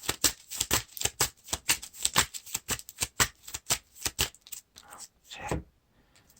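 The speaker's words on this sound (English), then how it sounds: "And then we shuffle all these locations into the counter deck." Lord of the Rings card game cards are shuffled by hand in rapid, rhythmic riffling bursts, close and crisp, slowing to a few softer taps and a final flutter before quiet.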